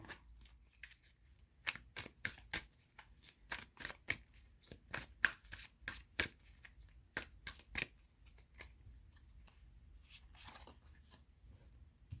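Playing cards being shuffled by hand in a run of sharp, rapid riffling flicks, fairly close and clear, with a few pauses between bursts and no talk.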